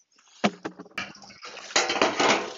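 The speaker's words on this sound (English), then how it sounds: "So I'm gonna water them with full strength hydroponic nutrient." Full-strength hydroponic nutrient solution poured over plants in a gravity-fed, self-watering hydroponic system, heard as irregular splashing and trickling with a few sharper pours, close and moderately loud, no talking.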